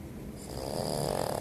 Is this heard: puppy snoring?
yes